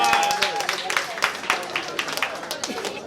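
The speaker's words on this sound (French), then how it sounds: "applaudissez pour Thierry, s'il vous plaît" Wedding guests clap for the groom Thierry in a lively burst of many hands. The sharp, uneven claps ring out close by and slowly thin, with voices talking over them.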